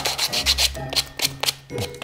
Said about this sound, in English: go away with the sanding paper